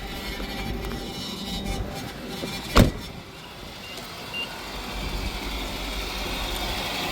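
A Nissan Altima with 146,000 miles idles steadily just after its first start, a low continuous engine hum with a faint power-steering whine, broken by one brief sharp knock partway through.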